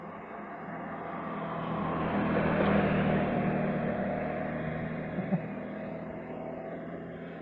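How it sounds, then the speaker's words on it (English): A hot rod car drives slowly along a street, its engine revving in a long, swelling drone that rises to a peak mid-way and fades off, with a brief knock near the end and no talking. "Rather slow for a hot rod, but boy was he revving it up."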